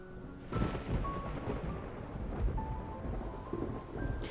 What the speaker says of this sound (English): I'm about to poke his cheek when thunder suddenly roars